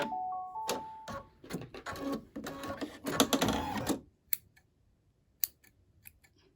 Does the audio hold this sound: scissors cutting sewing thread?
yes